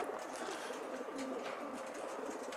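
Racing pigeons waiting before a release coo softly and repeatedly, many voices together, steady and close, with no talk.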